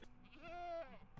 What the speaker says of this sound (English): Oh, was that the goat?